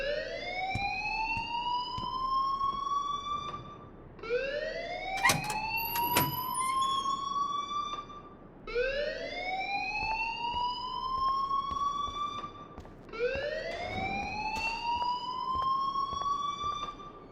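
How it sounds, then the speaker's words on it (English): A fire alarm in the video game Life is Strange sounds four times, each a rising electronic wail that swells and cuts off in a steady, repeating cycle, loud and clear with no talking. "please turn off that alarm since that's your job"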